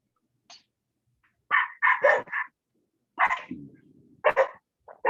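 A dog barks in short bursts, a few quick yaps clustered together with brief quiet gaps between them, fairly close.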